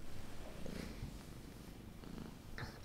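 A cat purrs steadily up close, a low continuous rumble running through the whole stretch with small rustles on top.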